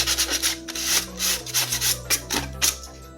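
A 3D printed Robocop suit piece being hand-sanded to smooth out small divots, heard as steady, close, rhythmic rubbing strokes with a gritty scrape, no voices over it.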